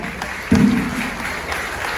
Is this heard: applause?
yes